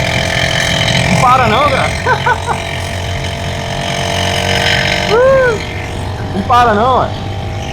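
A bicycle fitted with a brushcutter engine and CVT drive is held at full throttle, its buzzy drone straining steadily under a man's loud, excited talking.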